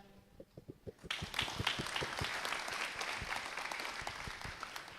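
An audience bursts into loud, sustained clapping during a public Q&A discussion in Indonesia, rising sharply after a brief quieter moment and continuing as a dense, steady roar of hands.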